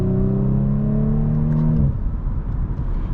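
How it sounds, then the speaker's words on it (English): A 2018 Audi S4 exhaust note while driving: a smooth, rising engine drone that stops abruptly partway through, leaving a rougher road and engine rumble behind. "I really do enjoy the exhaust note."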